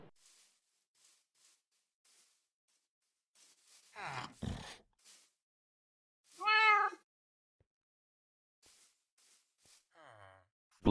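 A Minecraft cat gives a few brief, separate meows, one clear tonal cry in the middle and a fainter one near the end, spaced between quiet stretches and soft grunting sounds.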